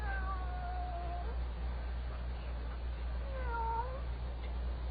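A cat meows several times with wavering, drawn-out calls, close and clear over a steady low hum, with no talking.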